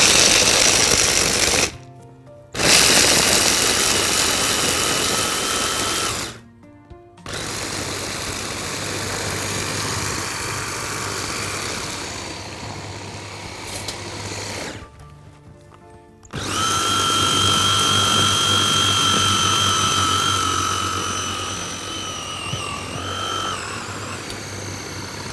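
Food processor grinding hazelnuts into chocolate spread, a loud steady whirring motor drone run in long bursts separated by brief stops, the pitch shifting slightly as the nut mass thickens.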